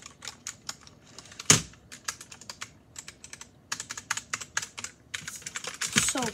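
Rapid clicky keystrokes on a very smooth mechanical computer keyboard, typed in quick irregular bursts with short pauses, close and fairly loud, no talking.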